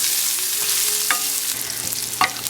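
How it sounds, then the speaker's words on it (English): Three garlic cloves fry in a pan over medium-low heat, giving a steady, close sizzle with two sharp clinks of a utensil. "And 3 garlic cloves. And just cook this up for about a minute."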